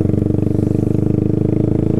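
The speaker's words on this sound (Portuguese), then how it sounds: "Essa moto aqui é uma 250 cilindradas, uma Fazer 250" A 2021 Yamaha Fazer 250 motorcycle engine with a sport exhaust idles loudly and close, with a fast, even putter of exhaust pulses throughout.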